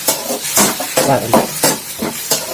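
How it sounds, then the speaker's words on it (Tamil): Ground onion paste sautéing in a pan for a raw banana gravy, rhythmic stirring scrapes repeating about twice a second over a soft sizzle, close and fairly loud, with no talking. "வெங்காயத்தை ஊற்றி பச்சை வாசனை போகிற அளவுக்கு நம்ம வதக்கிக்கணும்"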